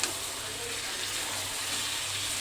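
Hot water pours steadily into a pot of chicken curry, a close, continuous gushing wash that holds level for a couple of seconds with no talking.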